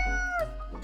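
A cat in the game Death and Taxes lets out a single short, clear meow, followed by a brief dull thump at the end.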